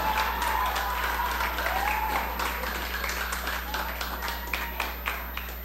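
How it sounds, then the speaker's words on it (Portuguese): An audience at the Biblioteca Nacional Aruba applauds steadily for Olinda Rasmein, a dense even clatter at moderate level over a low hum, with some voices beneath. "forte aplauso para Olinda Rasmein de Estima Aruba"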